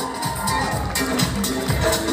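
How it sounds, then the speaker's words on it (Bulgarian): Crowd along a rose festival parade route applauds a passing school group, a steady wash of clapping and cheering with murmuring voices mixed in, moderately loud and continuous. "Аплодисменти за тях."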